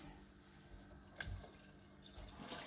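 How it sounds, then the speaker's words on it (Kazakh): Water poured into a pot of rinsed rice, two bowls' worth, in a home kitchen: a faint, close trickle and splash with a brief louder gush partway through, no speech. "Енді мұнда су құямыз."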